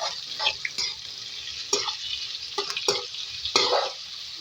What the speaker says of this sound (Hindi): ये हमारी प्याज हो रही है फ्राई।